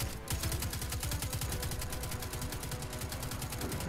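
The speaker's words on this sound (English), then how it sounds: "So I'm going to use my chain gun here" Rapid, steady chain gun fire in the shooter Destiny 2, played on PC, with evenly spaced shots pounding for about four seconds at a constant loud level and no talk over it.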